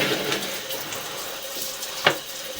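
Tap water runs steadily as items are rinsed under it at a home on Harding Ave in Cheviot, Ohio, a soft continuous hiss with a brief clatter near the end.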